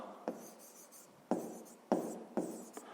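Marker or chalk strokes writing numbers on paper or a board during a fifth-grade maths lesson, four sharp scratchy strokes spaced about half a second apart, close and fairly quiet with no talking.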